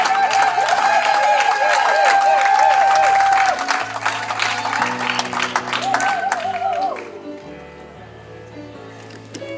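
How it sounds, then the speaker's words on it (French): A crowd claps over music, loud at first and then fading away after several seconds while the music carries on. "Et nous allons les applaudir bien fort."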